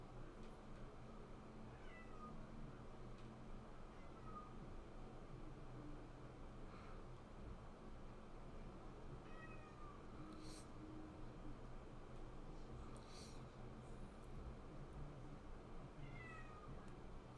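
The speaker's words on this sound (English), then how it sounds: "Yeah, the kitty must be hungry." A hungry pet cat meows a few faint, short times, scattered across a steady hiss of background noise.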